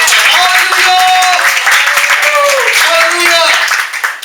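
A church congregation applauds during a service while voices ring out over the clapping, the applause loud and sustained before fading slightly at the end.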